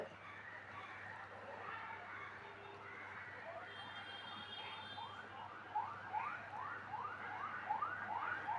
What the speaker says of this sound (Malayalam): ഇതാ ആംബുലൻസ് പോകണം സൗണ്ട് കേൾക്കുന്നുണ്ടാ